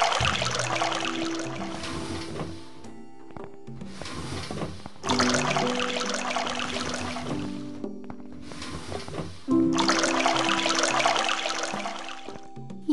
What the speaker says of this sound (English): Now I'm gonna flush them in the toilet